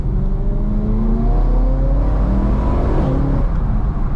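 A modified 2010 BMW E92 M3 heard from inside while driving, its engine note rising and shifting in clear harmonic sweeps as it revs up, loud and close with no voices.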